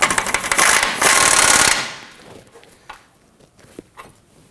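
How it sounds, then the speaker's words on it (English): A wrench snugging down the inboard control arm bolts on a 2015-2024 Nissan Murano gives a loud, rapid ratcheting rattle for about two seconds, followed by a few scattered metallic clicks and taps. "Gonna get my wrench on there and snug these down."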